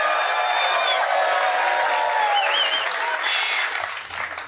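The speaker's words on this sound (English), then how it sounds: "Give yourselves a round of applause for that." Studio audience at a live ESPN First Take morning sports talk broadcast breaks into loud, sustained applause with some cheering, dense and steady before tapering slightly at the end.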